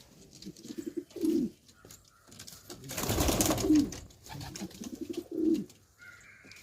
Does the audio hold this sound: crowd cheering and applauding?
no